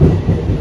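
A train carrying passengers to a wedding in Khardah rolls along with a steady, heavy low rumble, dense and close, for a short unbroken stretch with no voices.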